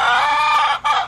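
Chicken clucking steadily and close, a loud run of hen calls with a brief break near the end, heard on its own without talk.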